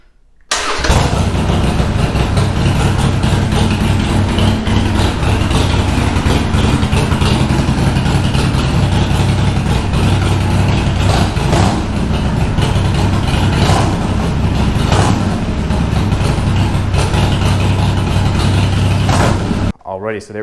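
A Harley Sportster motorcycle engine catches with a loud start and settles into a steady, rumbling idle for nearly twenty seconds, close by, then cuts off abruptly at the end.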